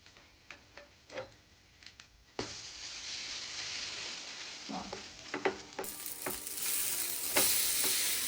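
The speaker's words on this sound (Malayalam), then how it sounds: "ഇത് നന്നായിട്ട് ടോസ്റ്റ് ചെയ്തെടുക്കുക" Bread sizzles as it toasts in ghee in a pan, a soft frying crackle under sharp taps and scrapes, and the sizzle grows louder and fuller partway through.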